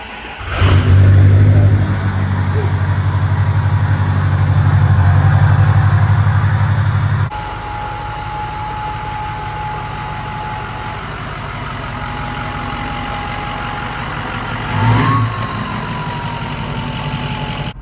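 An old diesel truck engine cranks, catches and settles into a loud, steady clattering idle. The note shifts partway through, then a brief rev swells near the end, with no speech over it.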